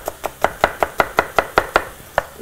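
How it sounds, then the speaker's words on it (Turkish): An onion being chopped with a knife on a board for tas kebabı, a run of about a dozen crisp, evenly spaced close-up knocks with one brief pause near the end. "Soğanımı doğrayayım."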